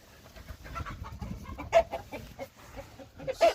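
Backyard chickens cluck nearby in short, scattered bursts, a few sharper clucks standing out over soft outdoor background noise.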